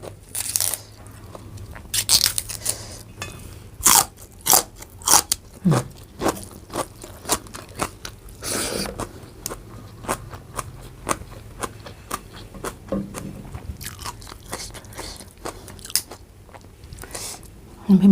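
Crisp crunching bites and chewing of fresh Thai green onion stems dipped in olive chili paste, sharp close-up snaps repeating irregularly over about eighteen seconds between quieter chewing.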